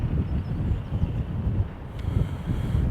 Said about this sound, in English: Wind's picking up a bit as well